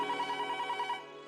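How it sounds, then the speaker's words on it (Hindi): A telephone bell rings indoors, a rapid warbling trill pulsing about a second before cutting off, clear and close with no talk over it. "ये फोन बजा."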